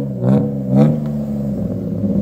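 A junkyard BMW car engine revs twice in quick, throaty bursts, then settles back to a rough, rumbling idle, close and loud with no talking.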